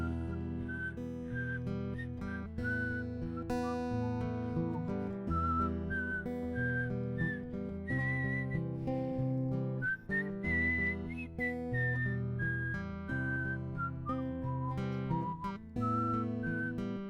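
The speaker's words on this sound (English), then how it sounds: "I'll whistle it, the first verse" A person whistles the first verse of a tune, a clear melodic line held steadily over a sustained instrumental backing, with no talking throughout.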